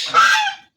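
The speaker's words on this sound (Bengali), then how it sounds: "রাজহাঁস" A single loud, nasal goose honk, close and brief, fading out quickly, at a rural village homestead in Bengal.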